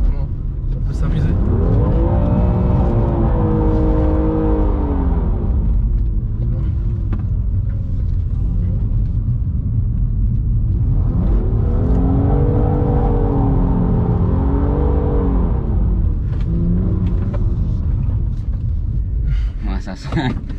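A BMW M2 Competition engine revs hard while drifting, with two long rising-and-falling surges of loud engine roar separated by quieter idling and tyre noise, voices talking over it.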